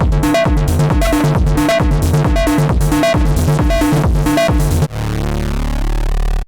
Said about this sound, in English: SAWX is a sawtooth wave that is modulated with white noise and enhanced by chorus